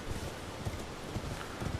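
Horse hooves clip-clop at a steady gallop in the video game Elden Ring, a rapid rhythmic patter of footfalls at moderate loudness with no talk over it.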